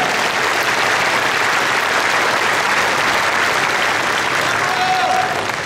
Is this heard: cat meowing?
no